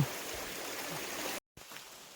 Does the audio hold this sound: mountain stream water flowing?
yes